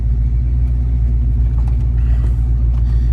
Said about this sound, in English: exhaust sounds good. Doesn't sound like any leaks or anything.